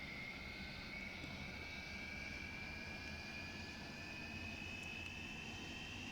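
Hawker Hunter jet engine in the Prepar3D flight simulator, a steady whining roar with a slowly rising high tone as power builds for taxi, continuous and unbroken with no voices.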